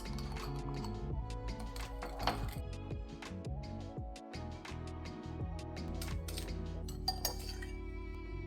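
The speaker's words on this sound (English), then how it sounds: "I'm going to stir in 2 teaspoonfuls of cinnamon." A spoon stirs cinnamon into caster sugar in a dish, giving close, repeated light clinks and scraping taps against the dish in an uneven rhythm, with a soft ringing tone underneath.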